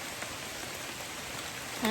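Heavy rain falls in a steady, dense hiss that fills the whole stretch with no talk, and a brief louder sound comes in at the very end.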